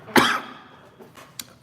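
One sharp, close cough bursts out and tails off, followed by a couple of faint throat noises, fairly quiet overall.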